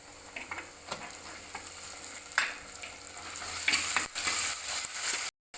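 Tomato sizzles steadily in a hot pan with ground pepper, cumin, garlic and mustard seeds for rasam, a loud close frying hiss with a few stirring scrapes and no voices.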